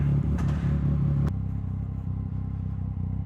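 A Yamaha MT-09 SP motorcycle fitted with a Blackwidow exhaust blips the throttle in a short loud rev, then drops back to a deep, steady low idle burble close by.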